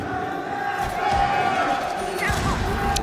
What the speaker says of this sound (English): the FaZe clan crowd trying their best